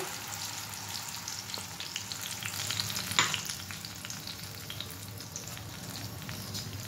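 Capsicum paste frying in mustard oil with nigella seeds, a steady close sizzle with soft stirring scrapes and a brief louder spatter burst midway.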